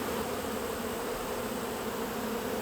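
A yellow jacket wasp buzzes near a beehive, a continuous close insect drone that stays steady and fairly loud throughout, with no voices.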